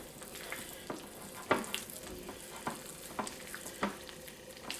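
Buttermilk cornbread batter, loosened with extra milk, is stirred by hand in a steady rhythm: wet, regular scraping strokes about twice a second, close and moderately loud, with no voices.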